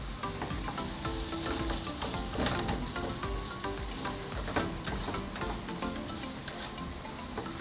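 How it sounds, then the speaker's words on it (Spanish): Flour cooks in a pan for chicken croquettes, stirred constantly, giving a dense, continuous sizzle with scraping and clicking from the utensil close up. "Vamos a mover bien para que la harina se disuelva y para que así se cocine."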